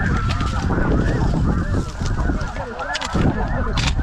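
Dense flock of snow geese honking in flight overhead during a spring conservation hunt, a loud continuous overlapping chorus of calls with brief bursts of wingbeat and rustle noise.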